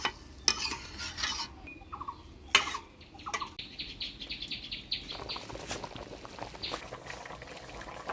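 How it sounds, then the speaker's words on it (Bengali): Rohu fish curry gravy with potato and cauliflower bubbles in a pan, sharp spoon knocks early on, then a soft, busy boil that carries on close by with no voices. "ঝোল জাল হয়ে গেছে"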